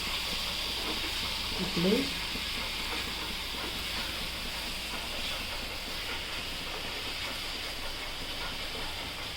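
Masala paste frying in a pan for chilli mushroom, a steady, even sizzle and hiss running throughout, with brief speech near the start.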